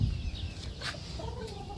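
A lemon-colored chicken, half lemon and half yellow-leg hatch, clucks softly and close by amid low farmyard rumble, with a brief chirp in the middle and no talking.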